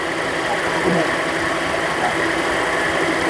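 A Proton Saga FLX car idles with its air conditioning switched on, a steady mid-pitched engine drone with a constant hum and slight vibration and no clear change. It sounds close and continuous.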